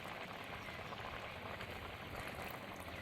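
Eggplant white curry bubbles at a steady low simmer in a pot, a soft continuous fizzing and popping with no voices.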